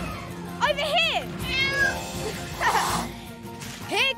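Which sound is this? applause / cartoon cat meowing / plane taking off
cartoon cat meowing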